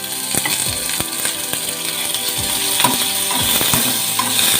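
Onion frying in half a teaspoon of coconut oil in a pan, a steady soft sizzle punctuated by scraping and clinks of a spoon stirring, close and continuous.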